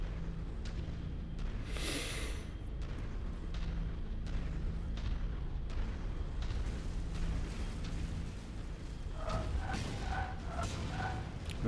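Gunfire and explosions from the mech combat game MechWarrior 5, a dense continuous barrage of booms, bursts and weapon fire with a sharp blast near two seconds and chiming impacts toward the end.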